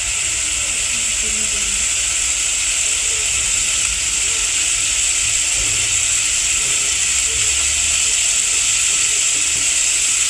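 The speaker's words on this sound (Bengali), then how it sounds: "আমি ভালো মতো কষিয়ে নিচ্ছি।" Cumin and coriander paste with ginger-garlic paste sautéing in oil for red lentil dal, giving a constant loud, even sizzling hiss throughout with no breaks.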